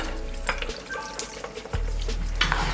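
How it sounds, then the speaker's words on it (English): Crab balls frying in hot oil, a continuous close sizzle and bubbling hiss, with a few brighter pops and a low hum underneath, no voices. "We're gonna go ahead and fry up these crab"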